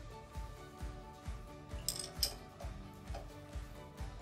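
A wrench tightens the pump drive pulley bolts on a Grasshopper G3 mower, giving a quiet, regular ratcheting click roughly twice a second, with a few brighter metallic clinks midway.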